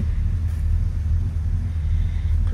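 A 1970 Chevrolet Monte Carlo engine idles steadily after startup, a loud, continuous low rumble with no other sounds.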